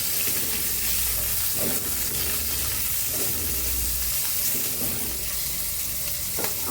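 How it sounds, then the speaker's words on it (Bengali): Pumpkin pieces and three green chillies fry in a pan with a loud, constant hiss and crackle, broad and steady, with faint stirring taps and no talking. "দিয়ে দিচ্ছি কয়েকটা মিষ্টি কুমড়ার টুকরো, একটু ভাজি করে দেবো। আর দিয়ে দিচ্ছি 3টে লঙ্কা, ভাজি করে দেবো।"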